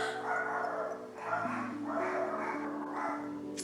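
Several puppies bark and yip indoors, reacting to a gardener working outside, with repeated short bursts in a steady rhythm at moderate loudness and no talking.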